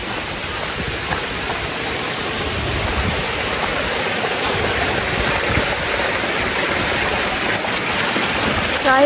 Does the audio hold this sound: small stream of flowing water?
yes